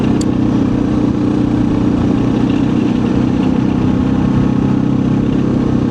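A Suzuki DR650 motorcycle rolls along a hard-packed, lightly graveled dirt road, its engine a steady low drone with continuous road and wind rumble throughout, fairly loud and unbroken.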